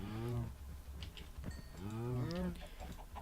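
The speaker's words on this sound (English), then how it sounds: "Oh, wow, there's a lot of cows in here." Several cows moo in the video game Minecraft. The drawn-out, fairly loud moos overlap one after another in a crowded pen.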